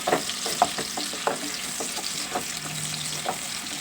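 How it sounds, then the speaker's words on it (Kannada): Chopped onions frying in hot oil, a steady broadband sizzle with short scraping stir strokes from a spatula at irregular intervals, close by, with no talking. "ಎಣ್ಣೆ ಹಾಕಿ ಕಟ್ ಮಾಡಿ ಇಟ್ಕೊಂಡಿರೋ ಈರುಳ್ಳಿ ಹಾಕ್ತಾಯಿದ್ದೀನಿ ಈರುಳ್ಳಿ ಹಾಕಿ ಚೆನ್ನಾಗಿ ಫ್ರೈ ಮಾಡ್ಕೋಬೇಕು"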